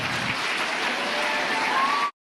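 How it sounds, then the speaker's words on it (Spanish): Audience at a health talk giving a strong round of applause for the presenters, a dense continuous clapping wash that cuts off abruptly after about two seconds. "Un fuerte aplauso para ellas,"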